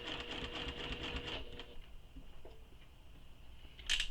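A sewing machine stitches around a corner of a fabric project: a close, steady mechanical run for about a second and a half, then it stops, leaving quieter handling noise and a brief faint burst at the end.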